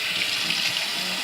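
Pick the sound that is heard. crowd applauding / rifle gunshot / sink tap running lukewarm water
sink tap running lukewarm water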